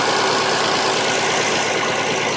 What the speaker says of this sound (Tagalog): itong mechanical fan na ito ay nakakadagdag ingay din